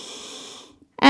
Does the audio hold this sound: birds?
no